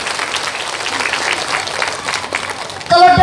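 Audience applause at an Islamic religious lecture in the village hall of Tenajar Lor, a steady crowd clapping throughout before a louder burst and a tonal sound at the end.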